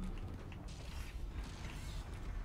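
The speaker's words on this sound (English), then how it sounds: "I believe that's the door." In the Dead Space video game, a heavy mechanical door grinds and creaks open in a dense, continuous, low rumbling wash with faint metallic clanks, loud and sustained throughout with no talking.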